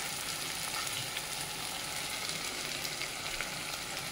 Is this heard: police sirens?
no